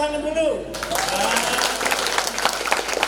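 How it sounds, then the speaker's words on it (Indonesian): An audience at a broadcasting literacy gathering breaks into steady applause, a full, even wash of clapping that follows a brief spoken voice at the start. "Tepuk tangan dulu"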